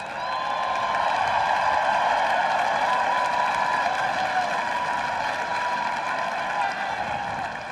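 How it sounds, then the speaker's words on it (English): A large ballpark crowd applauds and cheers during the Chicago Cubs 2016 World Series ring ceremony, a dense, continuous roar of clapping and voices that holds steady at full strength throughout. "You certainly deserve a round of applause."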